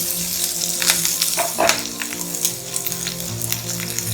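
Capsicum fries in oil in a kadai, a steady close sizzle with occasional scraping stirs, no voices over it.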